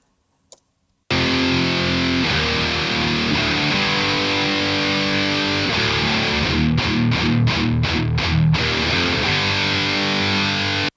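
A heavily distorted electric guitar track recorded for a mix, with dense sustained chords after a brief click, loud and alone, and a run of short choppy stabs near the end.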